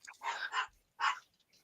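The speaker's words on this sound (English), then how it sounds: "I hear somebody's dog." A dog barks somewhere off at a distance, two short barks separated by a brief pause, with nothing else heard around them.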